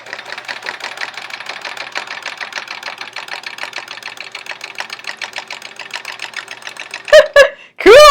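Sewing machine running a straight line of stitching with a Westalee ruler foot, a steady rapid close chatter that stops abruptly, followed by a couple of brief squeaky noises at the end.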